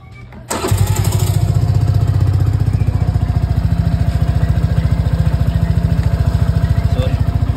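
A Suzuki Burgman 125 scooter with its stock air filter starts up and settles into a steady idle, a close, even putter of rapid rhythmic pulses.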